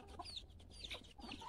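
Chickens cluck and squawk softly in a farmyard at dawn, several faint short calls scattered and overlapping at some distance.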